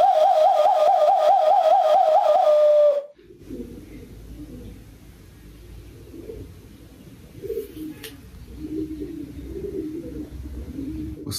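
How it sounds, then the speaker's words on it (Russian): Pigeons coo in a steady, rolling warble, close and loud for about three seconds, then stop, leaving faint background hum and distant noise, in Zanzibar. "Просто каждое утро это грёбаное воркование."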